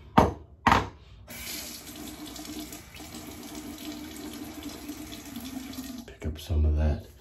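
Water runs steadily from a tap for several seconds, a broad hiss with brief clatter at the start and end.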